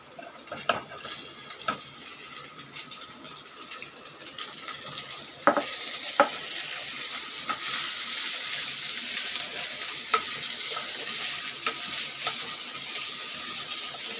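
Ivy gourd tipped into a pan of frying onions for poriyal, scraped and stirred with utensil clinks, then a steady loud sizzle that swells after the addition and continues, with no talking.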